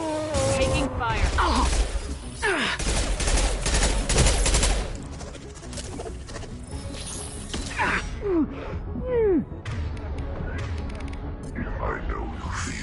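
Gunfire rattles through a firefight in the video game Mass Effect, played on Insanity difficulty, with dense bursts and loud volleys in the first five seconds easing to scattered shots, whooshes and effects, under game character voices.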